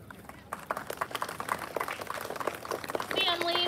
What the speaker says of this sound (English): Clap your hands for Mr.